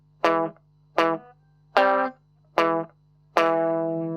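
Five plucked electric guitar notes form a rockabilly finger-picked bass line, each thumped note ringing briefly in a steady, evenly spaced pattern, the last one sustaining longer.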